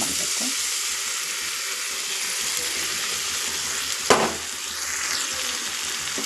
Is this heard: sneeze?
no